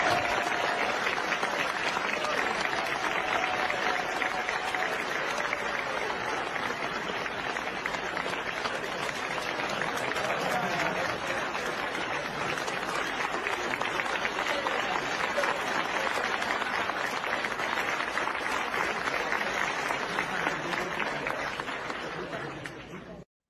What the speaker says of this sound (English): what was more telling was the standing ovation, which you can just see was totally forced